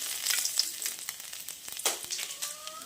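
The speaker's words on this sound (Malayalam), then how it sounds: "എണ്ണയിലോട്ട് ഞാനത് നമ്മുടെ വെളുത്തുള്ളിയാണ് ഇട്ട് കൊടുക്കുന്നത്." Garlic dropped into hot oil in a pan crackles and sizzles steadily, close and fairly loud, with a few sharper pops and a stir-like scrape near the end.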